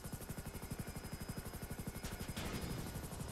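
A helicopter in the GTA video game thumps with a fast, even rotor beat that holds steady throughout, fairly faint under a thin hiss, with a brief burst of noise partway through.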